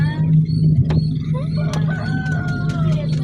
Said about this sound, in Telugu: కోడి కుక్కరుక్క ఉంటుంది కదా అక్కడ